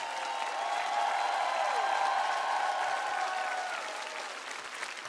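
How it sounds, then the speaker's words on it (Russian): Studio audience applause for a duet on a televised singing show, a broad sustained wash of clapping with light cheering that swells and then gradually fades. "ваши аплодисменты"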